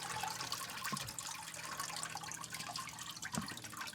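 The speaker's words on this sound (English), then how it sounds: "So let's shut off the sluice." Water from a gold sluice runs and splashes steadily while paydirt from an old bag is processed outdoors, a constant wash with a few louder drips and gurgles as the flow is shut off.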